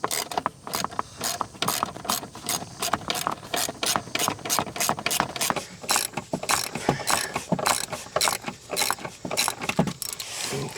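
A ratchet loosening screws on a Tesla Cybertruck seat, a rapid run of close, sharp metallic clicks in steady rhythm, continuing almost without pause.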